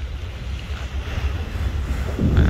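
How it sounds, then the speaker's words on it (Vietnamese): Waves hit a ship's bow in bad weather, making a steady rushing wash of water with wind noise, and a louder surge swelling near the end, with no voices. "Sóng đánh tạo là một cái vệt trắng ở xung quanh tàu như thế này đây."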